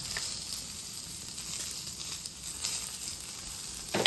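Onions sizzle on a very hot cooktop at about 600 degrees while steak ranchero is being made, producing a constant close hiss that swells into a sharp loud burst at the very end, with no voices.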